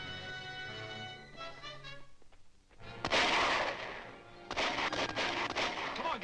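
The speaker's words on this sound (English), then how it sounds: "Man the machine guns." Machine-gun fire defends a stockade in a 1941 adventure serial: after a quieter opening, loud broadband bursts of rapid firing erupt, then a short pause, then a second sustained barrage that keeps going to the end.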